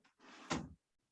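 A drawer slides open or shut at a table indoors: one short, fairly loud wooden scrape-and-thump lasting about half a second, followed by quiet.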